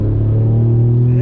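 Hennessey VelociRaptor 600, a tuned Ford Raptor pickup with an EcoBoost engine, revving hard on throttle: a loud, steady, deep engine roar held close for just over a second, with no speech over it.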